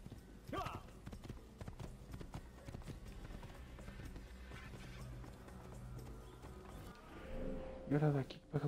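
Horse hooves clip-clop in the Assassin's Creed video game, a steady run of faint rhythmic clopping under game ambience, with someone speaking Spanish briefly over it.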